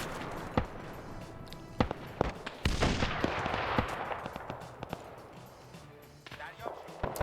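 Gunfire rings out in a convoy battle in a military video game, with sharp single shots spaced unevenly and a longer loud burst midway, under occasional speech.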